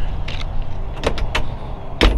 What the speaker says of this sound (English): Doors shut really nice.